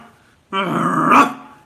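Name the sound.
voice imitating a dachshund growling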